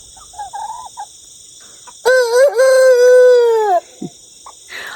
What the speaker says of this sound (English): He's learning to crow.